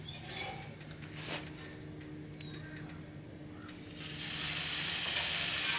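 A brie and pear sandwich on sourdough sizzles softly on a griddle, a quiet steady frying hiss that swells louder toward the end, with faint clatter and bird chirps in the background.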